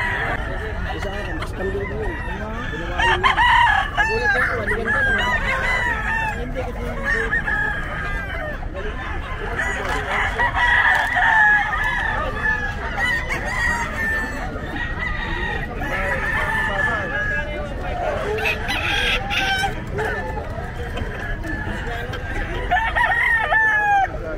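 Fighting cocks crow repeatedly throughout a busy pet market in Bocaue, overlapping loud calls and clucks from many birds mixed with background voices and crowd noise.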